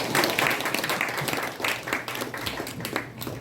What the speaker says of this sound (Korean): 큰 박수로 한 번 더